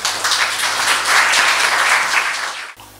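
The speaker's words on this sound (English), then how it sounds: "Please, all of you, welcome with a warm applause," An audience gives a warm welcoming round of applause for poet Anna Gríva at a Greek and British women poets evening, steady dense clapping filling the room for nearly three seconds before cutting off abruptly.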